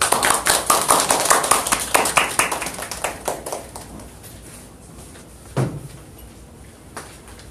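Applause from a lecture audience greeting author Kim Un-ha as he takes the stage, a burst of claps that thins out over a few seconds and gives way to quiet room noise with a couple of isolated knocks.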